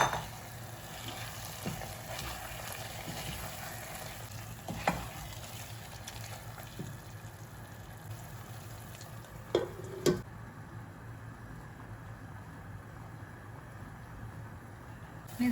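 Beef frying in a pan for a Kerala-style green kanthari chili beef curry, giving a steady low sizzle with occasional clinks of a utensil against the pan, moderately quiet and continuous.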